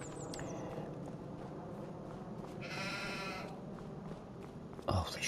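Farm sheep bleating in Farming Simulator 25, a few calls over steady ambient game background, with footsteps and a brief thump near the end.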